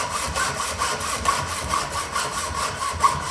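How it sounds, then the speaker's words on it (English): A hand hacksaw cuts through a thin copper rod in a workshop, making quick even back-and-forth rasping strokes, about four per second. Close and clear, with no talk. "with the hacksaw, I'll just cut this off"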